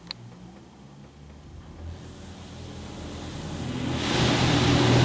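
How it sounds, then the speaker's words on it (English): High-pressure rinse jets of a Laserwash 4000 automatic car wash hitting a car, heard from inside as a rumbling spray that builds steadily into a loud, dense roar, with no voices. "You got a high power rinse"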